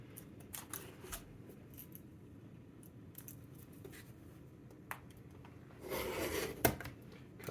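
Floor tile being scored with a cutter along a metal straight edge while replacing tiles in a front entryway: quiet scattered scrapes and ticks, then a louder rasping cutting stroke near the end, no talk.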